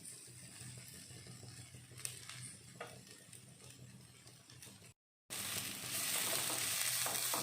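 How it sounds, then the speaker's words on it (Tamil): Onions and tamarind sauté in a pan for onion thokku, giving a steady soft sizzle with occasional stirring scrapes; after a short break, the frying hiss swells louder and brighter, with no speech. "புளி ஆட் பண்ணதுக்கப்புறம் ஒரு 30 செகண்ட்ஸ் வதக்கிக்கலாம்."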